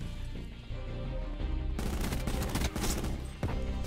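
Swordfish burst rifle firing in Call of Duty Black Ops 4, dense rapid gunfire bursts with loud cracks and in-game sound effects layered over continuous background game audio.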